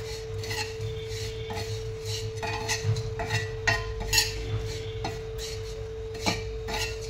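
Goalma is dry-roasted in a hot iron tava over a gas flame, with a utensil scraping and clinking against the pan in repeated irregular strokes. A steady hum runs beneath the sounds.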